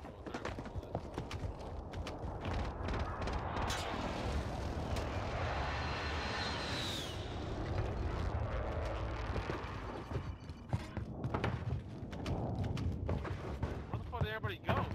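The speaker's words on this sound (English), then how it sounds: "Enemy precision airstrike" A precision airstrike in Call of Duty Warzone brings a steady, loud roar of aircraft overhead with rumbling blasts and scattered sharp cracks, dense and continuous throughout.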